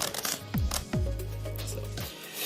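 A deck of playing cards is shuffled in quick riffles and brief rubbing passes, close and crisp, with soft thumps between bursts and no talking.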